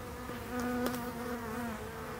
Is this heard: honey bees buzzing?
yes